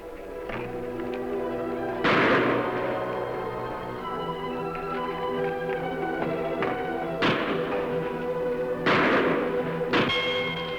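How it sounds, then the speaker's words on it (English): Gunshots in a Lone Ranger radio drama, several sharp loud reports spaced a few seconds apart over a continuous background of music and ambience. "Start firing."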